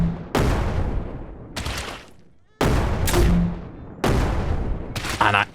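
Grenade launcher fired in the zombie survival game SurrounDead, four heavy booming blasts spaced about a second apart, each loud and sudden with a decaying rumble.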